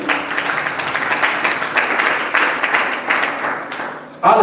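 Congregation clapping hands in a church, a dense, sustained round of applause at close range, with a voice breaking in at the end.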